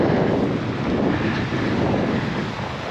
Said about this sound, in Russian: О, какой ветер.